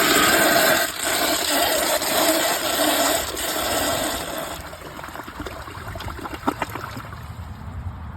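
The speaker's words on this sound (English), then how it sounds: "Let's give it a flush." A 2009 American Standard Gateway toilet flushing at mid-tank level: a loud rush of water that gradually subsides into trickling and gurgling as the bowl refills, with no talking.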